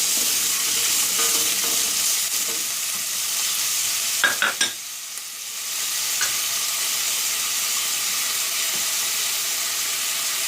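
Artichoke pieces, cut into ten, stirred and frying in a pan for bulgur pilaf: a loud continuous sizzle with a few clattering stirs in the middle, close up and with no talk.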